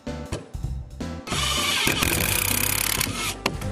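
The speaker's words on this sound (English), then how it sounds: "driving 3-inch screws to anchor both the 2x4s" A power driver sinks 3-inch screws into 2x4s anchored to an attic truss, a sustained loud whirring run of about two seconds following shorter bursts of work noise, with no talking.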